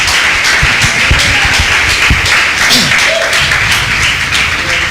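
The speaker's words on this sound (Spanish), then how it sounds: "Dale palmas fuertes a ese Dios maravilloso." A church congregation clapping loudly together, rhythmic claps in a strong steady beat, close and full, carrying through the whole stretch.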